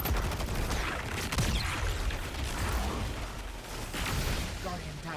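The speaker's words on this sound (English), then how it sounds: "They're firing at that." Rapid automatic gunfire from a Destiny 2 Deep Dive firefight, dense bursts of shots and impacts running continuously under voices talking over game chatter.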